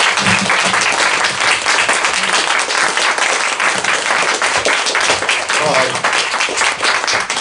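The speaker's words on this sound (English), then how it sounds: "let's give Mosab another warm round of applause" An audience applauds Mosab Abu Toha in a sustained, dense round of clapping lasting several seconds, with voices audible beneath the steady applause.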